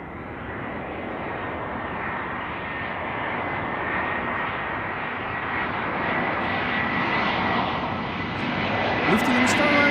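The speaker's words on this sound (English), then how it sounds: "After that, it's back to the wide bodies with a 777-300" A Boeing 777-300 wide-body jet arriving at Amsterdam Schiphol from Johannesburg gives a continuous broad engine roar that slowly builds in loudness as it approaches.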